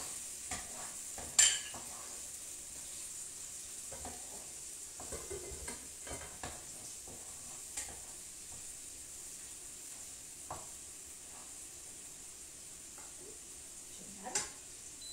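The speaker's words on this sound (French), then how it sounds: "Fais bien revenir les échalotes." Shallots and garlic sautéing in a pan for a sweet potato and duck confit hachis parmentier, a soft continuous sizzle under scattered spatula scrapes and clinks, fairly quiet with no talking.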